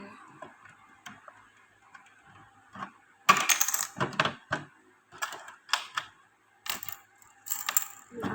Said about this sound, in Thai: เราก็จะเอาไข่กุญแจเอาเงินออกมา